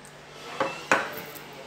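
Pork cubes and liempo, about a kilo, dropped into an Edmark smart pan, giving two quick clattering hits against the pan, close and short, with no talking.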